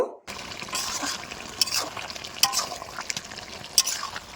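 Potatoes and Malabar spinach stems cook with dried fish in a pot as a spoon stirs through the thick, moist mixture, making wet scraping and squelching sounds with a few brighter clinks, close and moderately loud.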